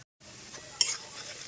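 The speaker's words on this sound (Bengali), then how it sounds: "এই পাশে কড়াইতে পেঁয়াজটা ভাজা হোক" Chopped onion fries in a kadai with a soft, low sizzle. It starts after a brief silence and has one small clink or stir near the middle.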